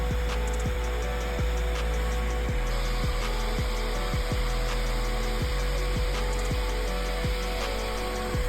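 Power sander working steadily on a Subaru WRX body, taking paint down to primer before a vinyl wrap, a continuous whirring grind with a rhythmic knock repeating about every half second, close and loud throughout.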